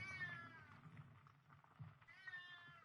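A cat meowing in the game 7 Days to Die on PS4, two drawn-out, insistent meows separated by a short pause, heard fairly close over a low rumble.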